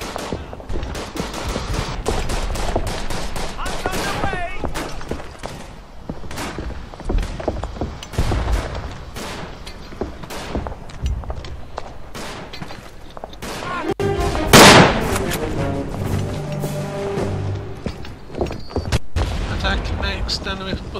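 Dense World War I battlefield gunfire in the Verdun video game: repeated rifle shots and rattling bursts, with a louder blast near the middle and a nearby voice talking in between.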